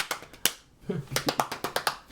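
A series of about five sharp hand claps, close and evenly spaced, following a single earlier clap and a brief murmur of voices.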